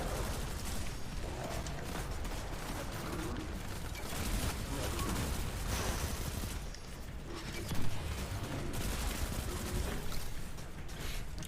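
SMG fire in Destiny 2 rattles in long, dense automatic bursts, a constant clattering stream of shots with mechanical clicks, faint and steady over nearly twelve seconds.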